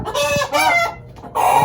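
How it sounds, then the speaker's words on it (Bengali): Caged Fayoumi roosters and chickens, close and loud, giving a few sharp clucks and strained crowing calls in quick bursts with short gaps. "অনেক চিল্লাচিল্লি করতেছে এই মোরগগুলা, এই মোরগের বাচ্চাগুলা এত জ্বালায় তারা।"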